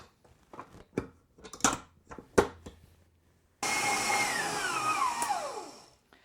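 After some scattered knocks and clatter, a stand mixer starts up and whirs continuously, kneading dough for a Finnish quark pie, with its pitch sliding downward as it works.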